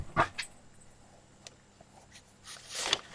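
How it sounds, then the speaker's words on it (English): A puppy whimpers and yips in short, faint bursts to be let inside, with a few brief sharp cries separated by quiet. "my puppy wants to come in."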